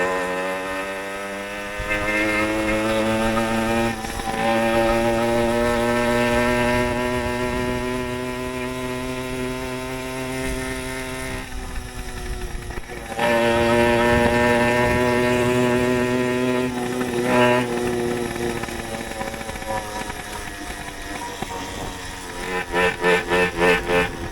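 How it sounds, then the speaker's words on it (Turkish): Puch Maxi S two-stroke moped engine buzzing and revving, its high droning pitch rising and falling through long throttle pulls with brief dips between, close and loud throughout. "şu iki zamanlının bu çok güzel gaz tepkileri, sesi falan şahane ya"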